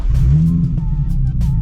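Nissan 350z engine starting up, a loud close rumbling crank and catch that settles into a deep steady idle with a brief rev in the middle of the idle.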